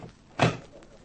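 A single short door thud, opening and shutting as a radio drama sound effect, lands close and fairly loud amid an otherwise quiet background.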